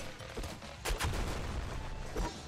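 A grenade launcher in the video game Nuclear Throne fires in a noisy stretch of gunfire, with a few sharp, loud blasts and explosive thumps about a second apart over constant busy game noise.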